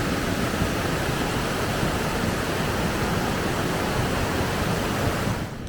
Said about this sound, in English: this is the biggest storm we've been in, and it's been raining cats and dogs like crazy